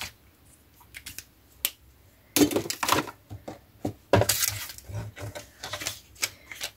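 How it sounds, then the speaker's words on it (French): Paper cut while making a recycled, decorated envelope, heard as a series of close, sharp snips and clicks, sparse at first and then denser, with small handling noises between cuts. "Et on va le couper ici."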